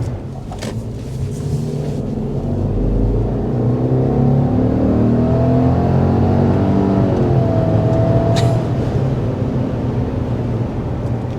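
A 2024 Subaru Legacy with the base engine accelerates, its smooth engine drone swelling and climbing in pitch under a steady road rumble, with no voices.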